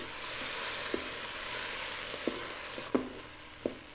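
Onions caramelizing in a pan for French onion pasta, cooked down until golden brown, give a steady soft sizzle with a few brief clicks and stirring taps scattered through.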